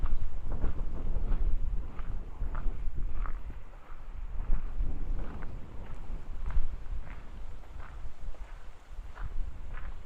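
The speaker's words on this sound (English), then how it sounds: "It's definitely feeling a bit more windy." Gusty wind in the bush near Wellington, New Zealand buffets the microphone in low rumbling bursts, with faint rustling and soft irregular knocks underneath.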